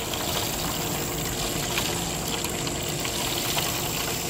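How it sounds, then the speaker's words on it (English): Water spurts steadily from a rerouted sump pump discharge outdoors, a constant, loud rushing flow that continues unbroken throughout. "look how much water's draining out"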